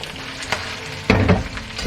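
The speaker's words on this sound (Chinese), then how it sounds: "然后保持中火煎" Chicken wings and chicken feet coated in flour pan-frying in oil over medium heat, with a steady close sizzle and a louder burst of spattering crackle partway through; no talking.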